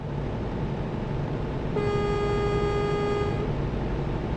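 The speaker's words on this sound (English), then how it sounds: "I've got horns on, but they disappear before they realise they need to honk, eh?" A truck horn in the TruckersMP truck simulator game blares as one steady, rich tone lasting under two seconds over a constant engine rumble.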